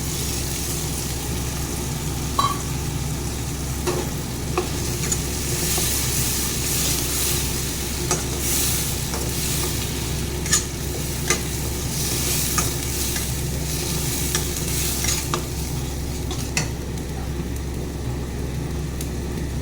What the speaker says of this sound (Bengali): একটু লাল করে ভেজে বন্ধুরা এই যে মশলাটা পেস্ট করে রেখেছি এটা দিয়ে দিলাম।